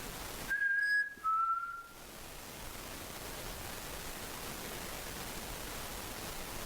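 Two short, clear whistled notes sound close together, the second pitched slightly lower, over a constant hiss of background noise in a quiet room.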